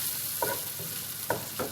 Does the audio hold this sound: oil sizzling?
yes